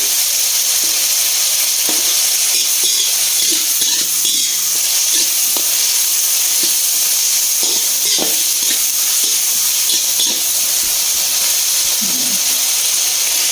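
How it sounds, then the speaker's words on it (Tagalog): Tomatoes sauté in a hot pan for an easy chicken dish, giving a constant bright sizzle and hiss with occasional scrapes and taps of a stirring utensil, close and continuous. "Gisa natin yan para lutuin muna natin"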